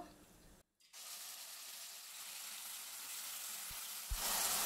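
Onion paste drops into hot oil and bursts into a loud, steady sizzle, briefly cut off after a clatter and then rising further.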